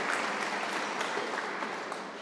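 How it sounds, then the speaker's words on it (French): Sustained audience applause at the inauguration ceremony of Henri Fabre's Canard seaplane at the aeronautics museum in Saint-Victoret, a steady crowd of many hands clapping together that eases slightly toward the end, with no voices heard. "Sous vos applaudissements."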